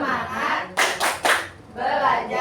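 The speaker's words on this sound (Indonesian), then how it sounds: "Tepuk semangat dulu, tepuk semangat." A group claps out a short spirit cheer at a school gathering: three sharp bursts of clapping in quick succession, framed by murmuring voices and talk before and after.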